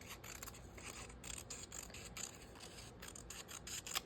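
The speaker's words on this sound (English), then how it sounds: "I got these scissors at Daiso, and OMG, they're fabulous. They cut so well." Daiso scissors cutting through paper, a steady run of crisp snipping and rasping close by with no talk.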